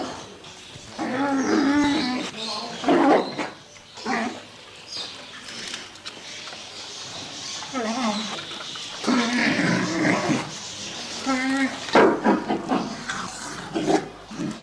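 Children's voices imitate a big brown bear, growling and roaring in several loud, overlapping bursts with short pauses between them.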